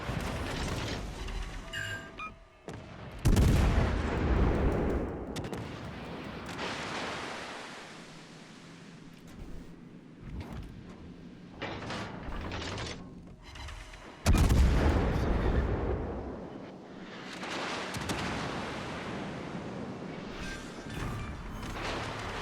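Heavy naval gunfire in the World of Warships Legends game: two loud booming salvos with rumbling tails, separated by stretches of distant rolling noise and mechanical clatter, with no talking.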